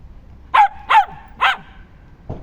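A dog barks four times, loud and close, the first three in a quick uneven series and a last short bark after a pause.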